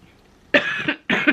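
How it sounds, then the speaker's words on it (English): Two distinct coughs from a person with asthma, close to the microphone, the second following shortly after the first, with a quiet room in between. "I'm gonna cough."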